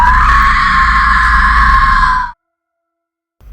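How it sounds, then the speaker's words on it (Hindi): A loud, sustained scream from a woman at Bhangarh Fort, high and piercing for about two seconds, then it cuts off abruptly into silence. "तभी उन सब ने एक औरत की चीख सुनी।"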